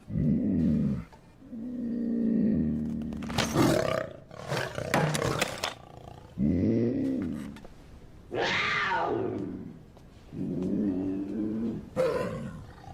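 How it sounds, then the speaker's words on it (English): A puma roars and snarls in a string of loud, close bursts, about seven of them, separated by short pauses, each a rough, growling cry. "It's a puma."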